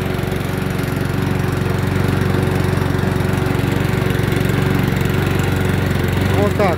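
A Brast 200cc 6 hp self-propelled lawn mower drives along with a steady, loud, close engine drone and constant vibration, and someone talks over it.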